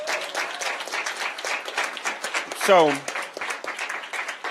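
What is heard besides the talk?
audience applause for a pastor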